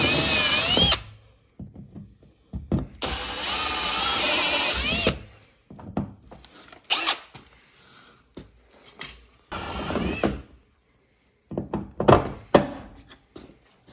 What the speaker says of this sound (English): we got the hole drilled in the side of the cabin for the bulkhead fitting